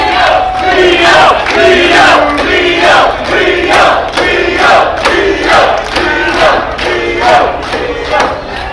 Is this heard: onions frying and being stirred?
no